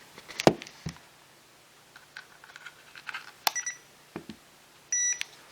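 A short electronic beep from a toy drone's radio transmitter sounds near the end, a steady tone lasting about half a second, after scattered clicks and handling noises in a quiet room.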